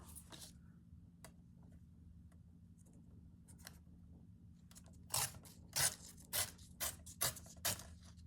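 Paper torn by hand for a handmade journal: a quiet stretch of faint rustles, then a run of five or six sharp, close ripping tears in quick succession.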